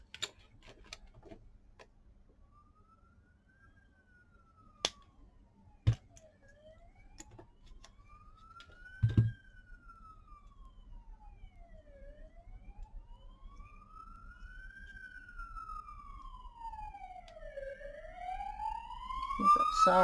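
Street siren from an emergency vehicle wails in slow rising and falling sweeps, starting faint and growing louder toward the end, with scattered clicks and knocks nearby over low traffic rumble.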